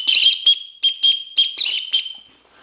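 A shrill backpack whistle blown in several short, sharp blasts with brief pauses between, close and loud.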